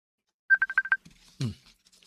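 Telephone keypad dialing for a call: six quick, evenly spaced touch-tone beeps, clear and close, then a brief low rustle or vocal burst after a short pause.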